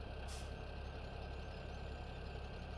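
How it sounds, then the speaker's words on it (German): A Case tractor engine in Landwirtschafts-Simulator 17 drones in a steady, even rumble, with a brief burst of hiss near the start. "Wir fahren hier aktuell auch einen Case. Hat auch einen guten Sound."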